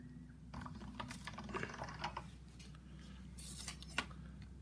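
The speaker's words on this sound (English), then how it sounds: "One at a time, putting this through my pasta machine." Hand-cranked pasta machine rolling a sheet of polymer clay, a soft continuous mechanical clicking and whirring close by with a low hum underneath.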